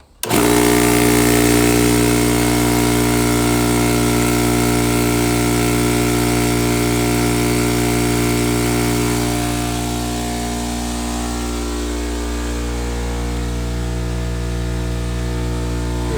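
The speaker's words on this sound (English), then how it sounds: "I gotta turn on the compressor here in order to get some air in there so I can clean that trimmer off" A shop air compressor starts up and runs loud and steady near a tractor being serviced, its motor drone holding constant with a slight drop in level partway through.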